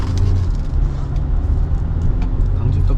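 Inside a used Hyundai Sonata New Rise on a test drive, a steady low engine and road rumble runs continuously, close and loud, with no talk over it.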